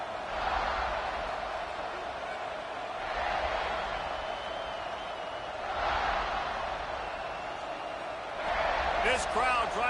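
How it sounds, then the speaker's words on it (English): Stadium crowd at a college football game between Alabama and South Carolina, a steady roar that swells in waves, with commentators talking over it. "This crowd trying to make life miserable for this offense."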